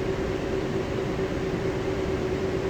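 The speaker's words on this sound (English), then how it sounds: "The train will be moving momentarily." Interior of the Denver airport concourse train between Concourse C and the terminal, a steady close hum with a sustained tonal whine over broad rumble, constant and unbroken as the car sits before moving.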